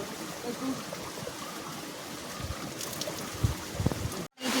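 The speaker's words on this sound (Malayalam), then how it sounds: "നല്ല രീതിയിൽ മഴ പെയ്യുന്നുണ്ട്." Steady rain patters and hisses outdoors, a soft constant wash with a few louder drips and knocks near the end.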